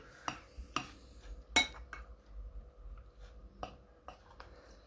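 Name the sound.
stirring slime mixture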